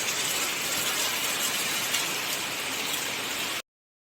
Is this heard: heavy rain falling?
yes